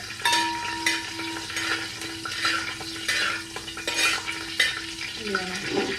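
Curry leaves and mustard seeds crackle and sizzle in hot oil in a pan, with bursts of spattering and stirring over a low steady hum.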